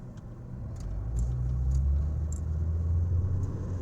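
A car drives down a road with a steady low engine rumble and road hum that swells slightly, heard from inside, with faint light rattles above and no one talking.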